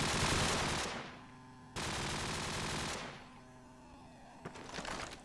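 Rapid automatic gunfire from a competitive tactical shooter match, two loud sustained bursts of full-auto fire with a brief gap between them, then quieter distant shots trailing off.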